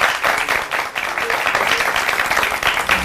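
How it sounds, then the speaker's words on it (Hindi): Applause for Badshah Pehlwan Khan at a Pro Wrestling Pakistan event, a loud, dense burst of many hands clapping from the crowd, sustained without pause. "बहुत सारी तालियां होनी चाहिए"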